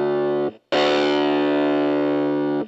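Riff-Step one-shot sequence from Step Audio on its pitch-shift harmony step: a sustained, distorted tonal note with a bright harmonic stack, cut by a brief gap, then a held pitched tone. It is loud and close with no talking.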